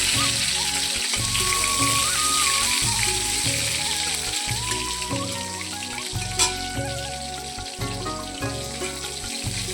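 Garlic frying in a pan with turmeric, giving a steady close sizzle and spitting hiss throughout, with rhythmic background music underneath.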